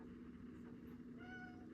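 Pet cat Pearl gives a single drawn-out meow near the end, faint against a steady low indoor hum, with no talk over it.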